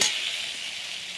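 Onion and tomato fry in a pan with sauces, a close, bright, continuous sizzle with no voices, loudest at the very start and then settling to an even hiss.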